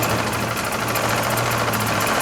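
A 2001 Toyota Corolla engine runs loud and close with a steady idle drone and rough vibration, stumbling slightly as the EGR port is pumped; no speech.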